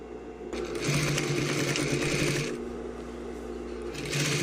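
A sewing machine stitches a sleeve seam on tailored fabric, running in two steady bursts of rapid, even mechanical whirring with a short pause between, close and clear.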